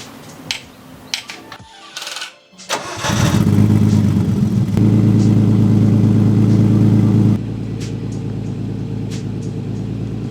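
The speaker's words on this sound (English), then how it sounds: "Letting the car warm up. I haven't driven it in like a week. This thing hates cold starts." A Nissan 240sx with Skyline power cranks over cold, catches and settles into a loud, steady, rumbling idle, the revs stepping down partway through as it warms.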